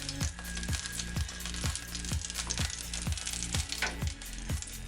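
Meat and fat simmering in oil in a pan aboard a boat: a steady close sizzle and bubbling, with soft rhythmic knocks roughly every half second, probably the boat or pan moving.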